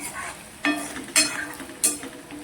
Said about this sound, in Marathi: भाजला बघा मसाला. हिरवी मिरचीचं वाटण भाजलं